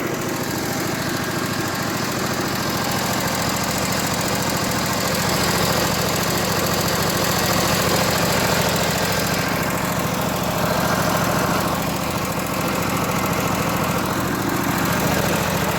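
A small Briggs & Stratton engine runs steadily at idle for the whole stretch, with constant valve chatter and rattling ticks over its droning hum, close and loud.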